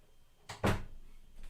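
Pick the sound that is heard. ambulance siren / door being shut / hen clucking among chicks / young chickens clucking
door being shut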